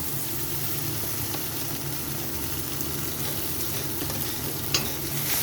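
A spice paste of ginger, green chili, tomato and Kashmiri chili powder fries for a Bengali crab masala, with a dense, steady sizzle and constant stirring, plus a single sharp utensil clink near the end.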